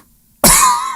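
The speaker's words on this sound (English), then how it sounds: "I cough." A single loud, close cough bursts out abruptly and trails off, heard alone on a talk show.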